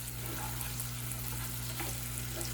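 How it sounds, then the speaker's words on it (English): Onions sautéing toward caramelization in a pan give a soft, steady sizzle with faint stirring, quiet and continuous over a low electrical hum. "We're gonna saute our onions until it caramelizes."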